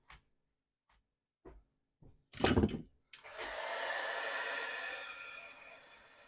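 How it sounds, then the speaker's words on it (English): A heat embossing tool blows hot air in a steady, close whoosh for about three seconds, following a few scattered clicks and knocks. "Now let's heat emboss that."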